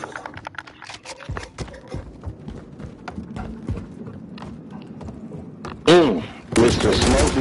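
Gunfire in a video game crackles in quick bursts and scattered single shots under excited talk, ending in two louder, denser volleys.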